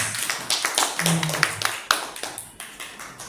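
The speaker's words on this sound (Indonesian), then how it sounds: "Boleh dong kita beri aplaus" Scattered clapping from a small audience rises and tapers off, uneven and moderately close, with a voice speaking under it.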